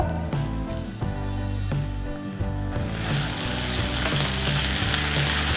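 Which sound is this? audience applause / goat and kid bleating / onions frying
onions frying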